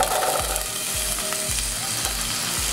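Yellow onions fry in melted coconut oil in a pot, giving a steady close sizzle with no pauses. Regular low stirring scrapes break through it about every half second.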